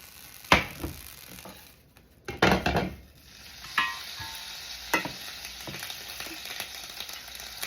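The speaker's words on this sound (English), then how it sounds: "I put my lid over there in the cast iron skillet that had the butter and all in it. It's sizzling." Butter sizzling in a cast iron skillet, a soft steady frying hiss broken by a few sharp metallic clanks and scrapes of a lid and utensils nearby.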